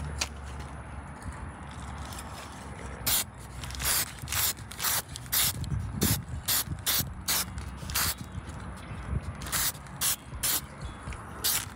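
Black matte spray paint hissing from an aerosol can onto a trailer, heard close as a series of short bursts and sprays in a quick irregular rhythm, with no voices.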